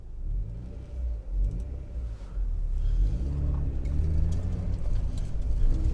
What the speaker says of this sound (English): Right, let's go for a drive.